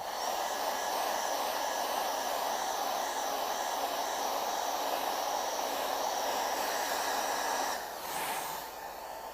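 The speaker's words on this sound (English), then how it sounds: "to do that, once again, we got our old pal, the hairdryer" A steady, loud whooshing blower hum like a hair dryer running continuously, with a brief shift in tone near the end as it drops slightly.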